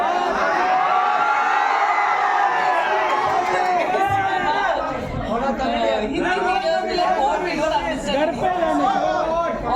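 A large Tamil crowd at a film song launch event cheering and chattering loudly, with whoops and shouted voices blending into a dense, continuous roar that stays close and steady throughout.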